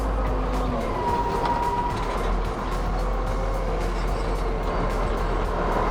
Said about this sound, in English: There's a lovely wee sweet note of that engine